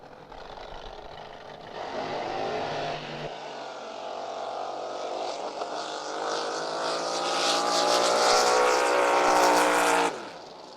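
Drag racing boats blast down a qualifying run at San Angelo in 2023, a loud engine roar swelling and climbing in pitch for several seconds, then stopping sharply.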